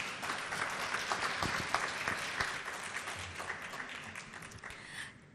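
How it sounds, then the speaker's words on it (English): Audience applause at a community book launch, steady dense clapping from a crowd that carries through the whole stretch before tapering slightly at the end. "Shall we give one more round of applause to our speakers?"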